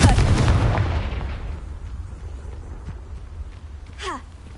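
A Confringo fire spell cast in Hogwarts Legacy hits with a loud burst that decays into a fading rumble, followed by quieter ambience and a brief whooshing flourish near the end.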